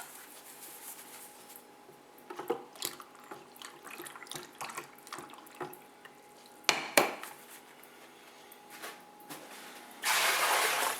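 Liquid pours out of a beer fermenter with a splashing, running-water sound, broken by scattered clinks and knocks. A louder steady rush of flow comes at the end.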